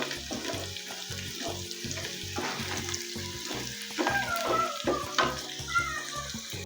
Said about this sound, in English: In another pan, I add in onions and fry until soft.